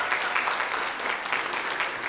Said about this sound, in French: Un applaudissement pour lui.